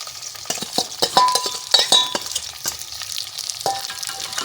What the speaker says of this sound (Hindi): अब इसके अंदर हम डालेंगे प्याज।